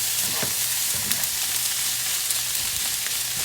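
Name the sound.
pineapple stirred into frying chicken fried rice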